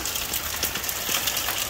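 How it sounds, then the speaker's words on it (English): Steady rain falls outdoors beside a house, a constant hiss of drops striking surfaces with a few soft patters mixed in, fairly loud and continuous throughout, with no voices. "but it's raining."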